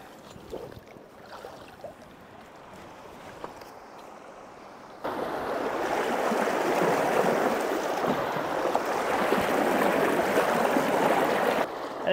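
Water rushes through a partly breached beaver dam at an off-grid woodland homestead, a steady outdoor gurgle that jumps to a much louder, fuller surge midway and holds there, with no voices.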